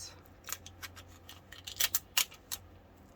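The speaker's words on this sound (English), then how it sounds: "And I'll just cut a piece here." Scissors snip through material for a handmade 1950s-style flower and rhinestone choker necklace, a few close, crisp cuts in quiet surroundings.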